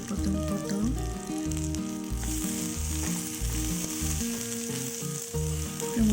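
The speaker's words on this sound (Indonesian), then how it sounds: "Sekarang kita tambahkan tomat yang telah dipotong-potong." Chopped tomatoes hit a hot pan while cooking nasi liwet, giving a steady, fairly loud sizzle with occasional stirring, layered under a rhythmic musical backing for the full stretch.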